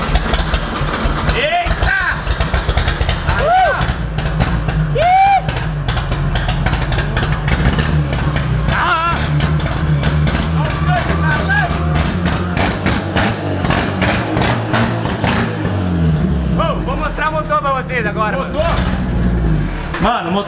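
A Chevette drift project car fitted with a non-original Opala engine runs loudly and steadily close by, a dense continuous engine roar under repeated talking and exclamations.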